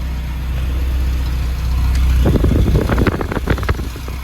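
A car engine with no catalytic converter, a straight pipe into the stock muffler, idles with a low, steady rumble, then revs into louder, choppy throbbing bursts from the exhaust before settling back.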